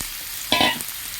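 Pumpkin, eggplant, potato and bitter gourd drop into hot oil in a pan, a sudden loud burst of sizzling that flares for a moment and then settles into a softer hiss.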